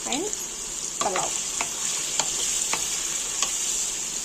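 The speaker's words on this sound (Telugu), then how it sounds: "సో ఇవి కొంచెం బ్రౌన్ కలర్ వచ్చే వరకు ఆయిల్లో వేగనిద్దాం" Cubes of paneer fry in hot oil, a steady close sizzle broken by several sharp scraping stirs of a spatula against the pan, with no voices.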